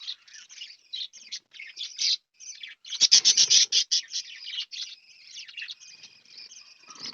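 Small caged finches and budgies, a mother with three chicks, chirp and tweet in quick high bursts, peaking into a dense rapid flurry midway before settling back to scattered calls, close by with no talk.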